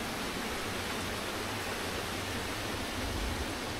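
Steady rushing river flows beside a forest trail near Nonok Falls in Real, Quezon, a continuous broadband wash of water close by with no voices.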